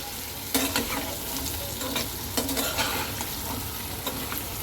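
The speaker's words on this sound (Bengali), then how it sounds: "তো চলো আলুগুলো আগে ভাজা হোক" Potatoes frying in a pan for a Kashmiri-style potato dum, a steady close sizzle with a few sharp stirring scrapes and clinks of a utensil against the pan, no talk.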